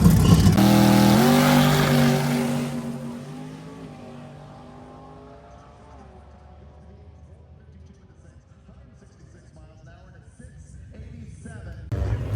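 A drag race car launches and makes a pass down the track at drag week, a loud engine roar up close that fades quickly into the distance, leaving faint background noise before crowd sound returns.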